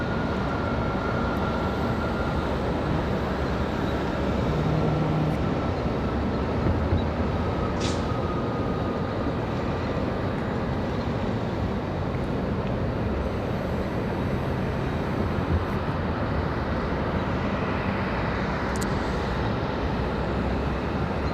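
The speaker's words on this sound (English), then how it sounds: "as you can see, the APU is running on that 777" A Boeing 777's auxiliary power unit runs on the ramp at Raleigh-Durham International Airport, giving a steady, continuous roar that fills the whole stretch with no breaks, with a faint higher tone drifting above it.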